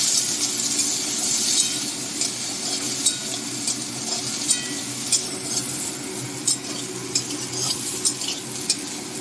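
Potatoes and tender drumstick stems fry in a pan with a soft steady sizzle, while a utensil stirs and clinks against the metal in scattered sharp taps.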